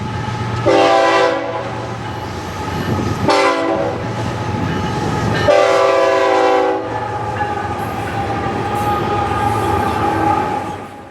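An FEC freight train moves through a Miami rail yard, sounding repeated loud horn blasts over the steady rolling rumble and clatter of rail cars close by.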